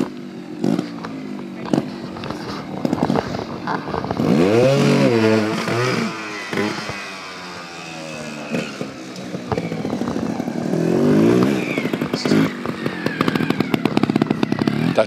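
Motorcycle engine revving hard and climbing through the gears at a bike show, loud rising whines with drops at each shift, close and dominant, with rasping crackles between pulls.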